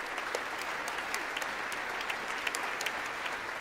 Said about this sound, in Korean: 굉장히 많은 박수를 받았는데